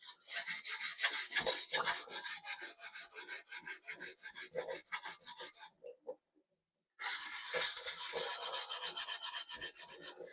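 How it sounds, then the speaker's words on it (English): Dense, rapid scrubbing strokes rasp across the oxidised metal of an obsolete Saab 900 Turbo battery tray, loud and close, pausing for about a second before resuming at the same brisk rhythm. "So, just scrubbing back the oxide"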